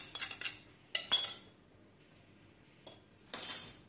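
Cake batter with flour and lemon being mixed by hand in a bowl at home, giving a few sharp utensil clinks and scrapes against the bowl in short bursts with pauses between.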